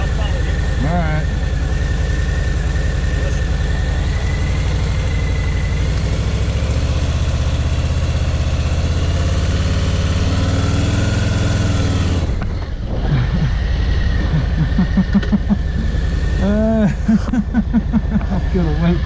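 A Harley-Davidson Softail Standard motorcycle idling nearby, a steady low rumble under occasional talk, dipping briefly before a few revs and the idle settling back in.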